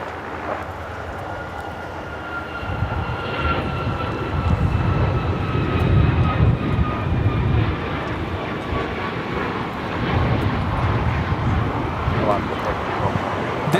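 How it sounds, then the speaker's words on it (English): An Alaska Airlines Boeing 737 MAX 9 takes off at Los Angeles airport, its engine roar swelling in rumbling waves beneath a thin gliding whine, with wind buffeting the microphone and voices speaking intermittently. "This is Alaska Airlines 1412 taking off to Liberia on the MAX 9"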